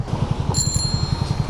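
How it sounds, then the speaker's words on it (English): A bicycle-style bell rung from a Honda Grom stopped at a red light, a brief bright ring heard over the steady, pulsing rumble of the small motorcycle's idling engine. "Red light bell."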